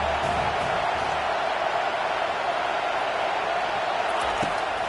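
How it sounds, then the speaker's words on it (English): A home crowd at a football game roars loudly and continuously, a dense, steady wash of cheering with no breaks. "how nice is it to have the home crowd going absolutely bananas"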